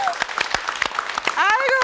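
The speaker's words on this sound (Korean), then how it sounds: "박수 한번 주세요." Studio audience on a KBS television talk show clapping in a quick, steady rhythm, with voices and a rising vocal tone near the end.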